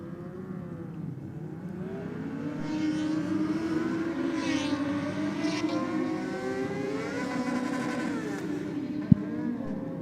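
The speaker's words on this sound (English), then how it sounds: "winding it up in the burnout in the Aeroflow lane" A drag racing motorcycle revs during a burnout in its lane at a drag strip, a sustained rising and wavering engine whine that grows louder and then holds, with a brief sharp click near the end.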